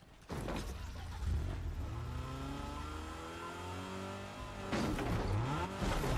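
A car engine in Fortnite revs and accelerates up close, pitch sweeping upward through gear changes, with bursts of louder noise at the start and near the end; no talking.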